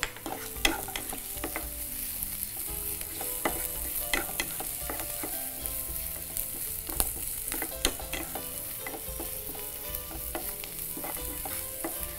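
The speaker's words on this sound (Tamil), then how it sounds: "இப்போ வெங்காயத்தோட தக்காளி சேர்த்துக்கலாம்." Chopped onion and tomato frying in a pan with a little salt, a steady bright sizzle broken by the scrape and clatter of stirring, close and continuous with no talking.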